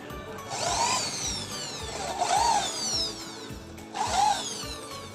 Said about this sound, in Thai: ต้องนำด้วยดอกสว่านก่อนนะครับ